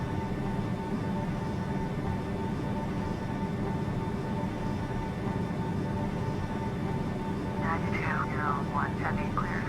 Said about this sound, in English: Flight attendants, prepare for takeoff